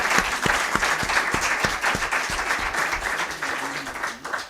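An audience at a Spanish book presentation applauds in a dense burst of clapping that runs steadily and thins toward the end, with a few louder individual claps standing out.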